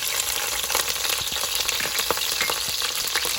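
Green onions sizzle and fry in olive oil in a preheated pot, a steady crackling hiss with occasional stirring clicks, close and continuous with no talking.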